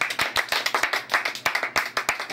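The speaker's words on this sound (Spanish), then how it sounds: "Un aplauso, recibámoslo." A small audience at a TV farewell event claps: sharp, distinct handclaps in a quick, uneven rhythm, close and loud, with no voices.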